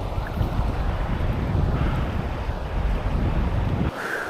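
A homemade motor drives a kayak upstream on the Youghiogheny River, a loud, steady rumble mixed with water wash and heavy wind buffeting on the microphone, dropping off abruptly near the end.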